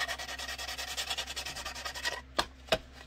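Wet sanding a clear plastic holster for a Beretta M9A3 with a 1000 grit sanding sponge: steady rhythmic rubbing strokes close up, then two sharp louder scrapes at the end, with no talking.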